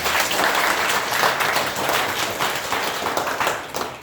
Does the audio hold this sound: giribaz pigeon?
no